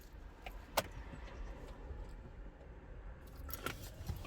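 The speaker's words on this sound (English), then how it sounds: "grab the keys" Car keys jangle briefly in a BMW interior, one sharp clink early on and another cluster of light metallic rattles near the end, faint over a quiet cabin hush.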